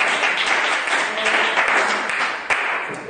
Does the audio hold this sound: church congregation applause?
yes